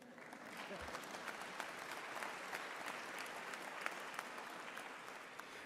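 A graduation ceremony audience of graduates, parents and friends claps at UNISA's autumn evening ceremony; the applause is soft and distant, a steady wash with a few sharper individual claps.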